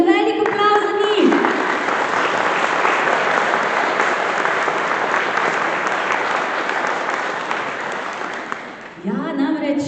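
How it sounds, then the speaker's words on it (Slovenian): Sustained applause from a concert audience honouring a group of female folk singers, loud and steady for most of the clip, fading toward the end as a voice begins talking over it. "tako da en velik aplavz za njih"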